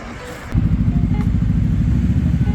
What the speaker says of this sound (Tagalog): Daming motor dito, guys. Sobrang dami.